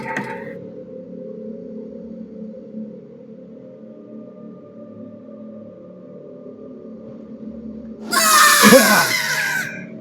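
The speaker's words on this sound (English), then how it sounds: "Sounds of screams are awful." A harsh scream erupts near the end in a video game, loud and noisy after a long stretch of quiet low droning ambience.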